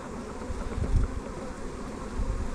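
Honeybees buzz softly around an open brood frame during a hive inspection. A faint, steady drone is heard, with a few closer passes swelling briefly.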